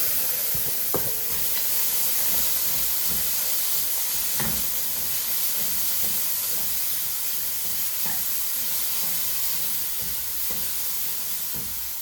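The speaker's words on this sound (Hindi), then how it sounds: "मैदा हल्का सा भून जाए तो इसमें मटर, गाजर और शिमला डाल देंगे।" Flour frying in a pan with peas, carrots and capsicum gives a steady, even sizzle throughout, broken by a few sharp clicks of stirring.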